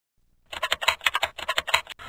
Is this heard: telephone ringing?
no